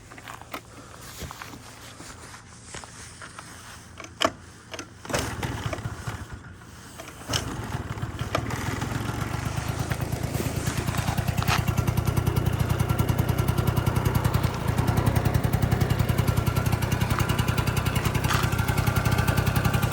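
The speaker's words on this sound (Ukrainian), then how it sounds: "Дуже гарно двигунчик працює чистенько, тихенько." Honda Dio AF-34 scooter engine starts up partway through and settles into a steady, even idle with a low buzzing putter, close by; faint handling noises and shuffling come before it.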